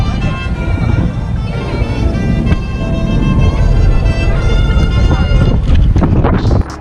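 Strong sea wind buffets the microphone at the bow of a tour boat off a Greek island, a loud continuous roar with a low engine drone and a voice talking through it.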